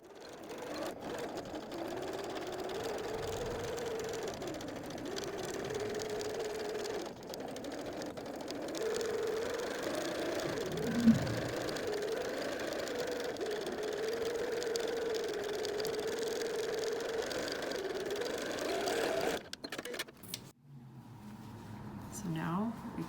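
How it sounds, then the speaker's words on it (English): A sewing machine runs steadily while stitching a messenger bag seam, a close, continuous mechanical whir with slight changes in speed, under a person talking, then stopping near the end with brief handling sounds. "we're going to start sewing at a 1/2 inch seam allowance up here"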